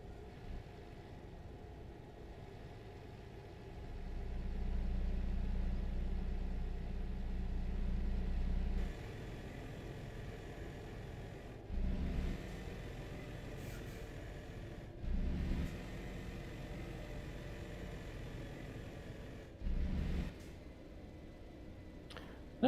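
In the video game Euro Truck Simulator 2, a truck's engine brake gives off a low, muffled rumble, first as one long stretch and then as several short bursts, all fairly quiet.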